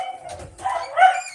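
A few dogs bark and yip in short, sharp bursts, moderately close and fairly quiet, with brief pauses between the calls.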